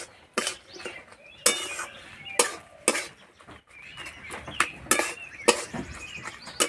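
Mashed eggplant being mixed with chopped onion and salt for begun bharta, with a spoon clinking sharply against the bowl in a few scattered close strikes over quieter soft mixing.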